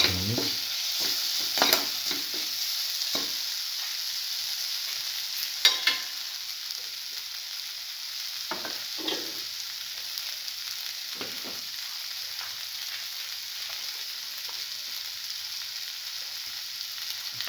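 Red and green chillies with salt are stirred in a frying pan over a steady hiss of sizzling oil, with scraping spoon strokes at the start and scattered scrapes later against the constant frying.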